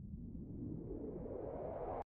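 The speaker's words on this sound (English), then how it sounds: "we will take the white noise riser on, just coming in on the last chord." A white noise riser sweeps steadily upward in pitch and brightness for about two seconds, then cuts off abruptly, in an R&B mix.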